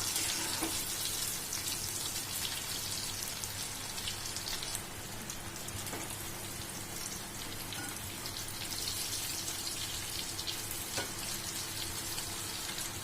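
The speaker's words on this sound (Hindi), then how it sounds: "ऐसे गोल्डन ब्राउन करके इसको डीप फ्राई करना है" Taro root (arbi) deep frying in hot oil until golden brown, a steady dense sizzle and crackle throughout, with a few sharper pops standing out, no voices.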